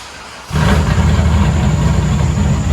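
A Ram 2500 Power Wagon with a 6.4L HEMI V8 goes from a quiet idle into a sudden loud, deep rev that holds a throaty roar for the rest of the moment.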